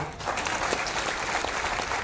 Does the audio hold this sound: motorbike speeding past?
no